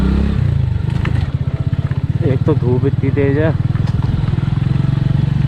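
A motorcycle ridden along a narrow walking footpath near the Jhilmil Gufa cave and Neelkanth Mahadev temple gives a steady, close engine rumble that continues under someone talking throughout.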